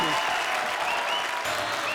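Studio audience applause at a comedy show, a steady dense clapping wash throughout, fairly loud, with a brief voice-like tone at the start.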